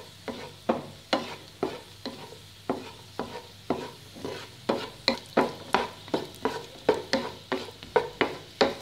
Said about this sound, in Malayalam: ശകലം നെയ് ഇതുപോലൊരു പാൻ വെച്ച് ഒഴിച്ച് നേരത്തെ എടുത്ത് വെച്ചിരിക്കുന്നു ആയിട്ട് കിസ്മിസ് ആണ് അപ്പം അതൊന്ന് വറുത്തെടുക്കാം